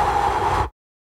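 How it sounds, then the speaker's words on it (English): Filtered white-noise whoosh, a brief airy hiss lasting about seven tenths of a second, steady and loud before cutting off sharply into silence. "sounds like a filtered noise, right?"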